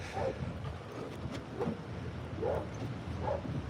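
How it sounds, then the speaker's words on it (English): A police canine unit dog inside a patrol car gives muffled, rough barks and snarls at a regular pace, several bursts under a steady low rumble of engine or road noise. "you can hear the dog like snarling and"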